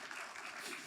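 Church congregation clapping together, a brief dense burst of applause that cuts off abruptly after about a second.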